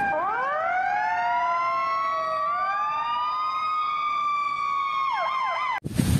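A toy fire ladder truck's electronic siren wails loud and close in sweeping rising-and-falling tones, holding a long steady sweep, then warbling quickly before cutting off abruptly with a sharp knock.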